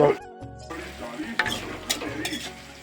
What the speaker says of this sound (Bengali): টমেটোটাকে আমি গালিয়ে নিলাম তেলের সাহায্যে